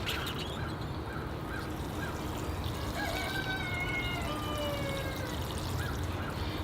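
Water from a container poured onto two potted bonsai trees in tall pots, a steady, moderately quiet wash of flowing water running throughout, with faint bird calls in the background.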